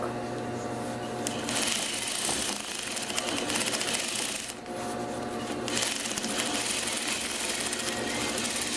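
A sewing machine stitches a seam on a scarf, a fast steady whirring chatter, close and loud, that briefly stops near the middle before running on again, with no voices.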